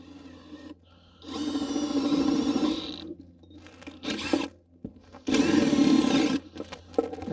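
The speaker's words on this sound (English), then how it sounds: "I'm just going to drill those 8 holes" An electric drill bores holes through a wooden supporting piece while making a Snelgrove board for beekeeping. It sounds as loud, close whirring bursts of two to three seconds, with shorter spins and pauses between the holes.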